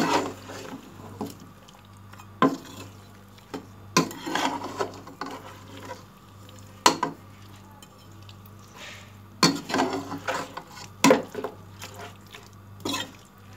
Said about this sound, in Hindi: अब इन तमाम स्पाइस को हम गोश्त के साथ अच्छी तरह मिक्स करेंगे।